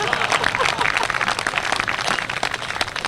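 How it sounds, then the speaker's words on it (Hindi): Audience applause mixed with crowd noise and voices, fairly dense clapping heard briefly under talk. "अब आपकी तालियां उठेंगी"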